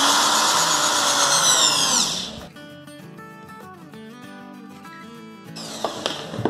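Power screwdriver driving a 3.5 x 25 mm screw to join two tire rims into a sieve, a loud steady whine that winds down, followed by quieter clicks and handling before a brief burst of motor near the end.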